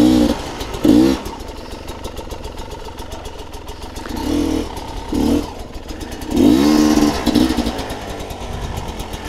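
A KTM 300xc two-stroke dirt bike engine climbs a rough trail near Penrose, Colorado, its revs bursting and dropping in repeated throttle blips over clattering, idling stretches, close and loud throughout.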